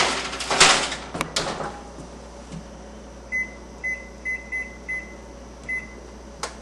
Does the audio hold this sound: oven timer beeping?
yes